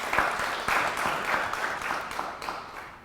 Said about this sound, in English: Let's give Karen a round of applause